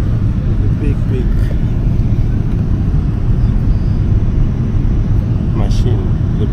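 Inside the cabin of a Boeing 787 Dreamliner airliner, a steady, loud, low engine and air drone fills the space without a break. Faint background sounds surface briefly over the constant rumble.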